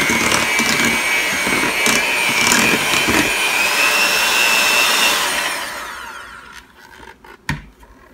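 An electric mixer whirs steadily through vanilla cake batter, its motor holding a high, even whine with faint rattling for several seconds before it switches off and winds down to quiet clicks.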